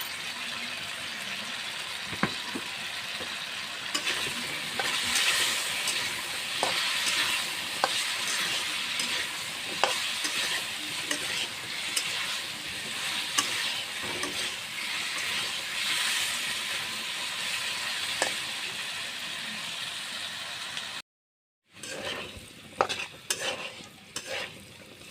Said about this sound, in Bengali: রং গুঁড়া অল্প নুন দিয়ে আমি আলুটাকে ভেজে নেব।